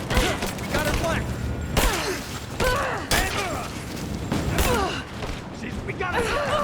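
Gunfire crackles in bursts through a video game firefight, the shots mixed beneath excited voices calling out to each other and overlapping with mechanical clatter.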